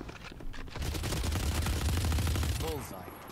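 A dense, continuous barrage of gunfire in the video game Valorant, loud and close with rapid overlapping shots and a low rumbling undertone throughout.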